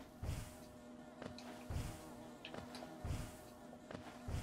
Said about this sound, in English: Hi, little bees.